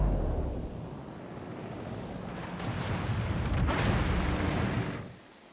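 Naval gun volley in World of Warships, a battleship game: a dense rumbling roar of heavy guns and wind builds to a loud burst of overlapping booms near the end, then cuts off.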